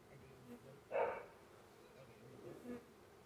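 A low, steady buzz of a honey bee swarm hums throughout, swelling briefly louder as a few fly close, with no one speaking.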